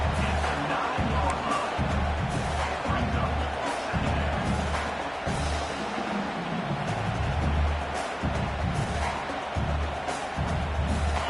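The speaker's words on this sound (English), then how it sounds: "you just know the home crowd is loving this" A home crowd roars steadily through a college football video game featuring Mizzou, a dense, continuous wall of cheering noise with occasional swells and thumps, and a voice may be faintly present.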